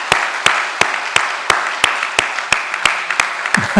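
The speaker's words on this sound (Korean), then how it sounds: "이 시간 우리 큰 박수로 우리 환영하도록 하겠습니다" A church congregation claps in welcome during a Sunday morning service, sharp claps falling in a steady unison beat roughly three per second, close and clear.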